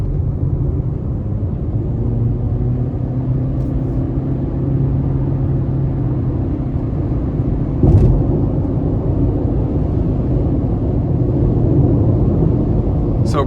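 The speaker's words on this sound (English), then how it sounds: "we're going to go ahead and give it some throttle getting on the interstate here" A 2025 Honda CR-V EX-L accelerates onto an interstate, its steady cabin rumble of engine and road noise holding loud and even throughout, with a brief sharper knock near the middle.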